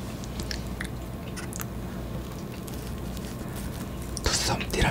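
Someone chews and eats soft tiramisu up close, with wet, squishy mouth sounds and light bites, and a brief louder burst at the end. Low voices murmur underneath.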